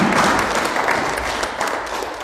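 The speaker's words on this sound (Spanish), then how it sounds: "denle un aplauso al Señor." Church congregation applauding during a service, a brief continuous wash of clapping with some voices mixed in.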